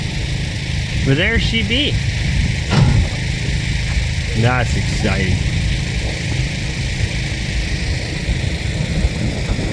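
A tractor's engine rumbles steadily and loudly as it arrives at a rural building site in Russia, with people talking over the drone.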